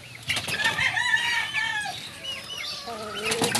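Hens with their half-grown chicks in a backyard flock, giving overlapping clucks, chirps and squawks with bursts of wing flapping, close and fairly busy throughout.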